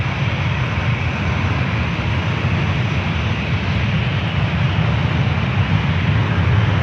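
A jet airliner taking off on runway 1 right at San Francisco International Airport gives a loud, steady broadband engine roar with deep rumble that holds throughout, heard alone without voices.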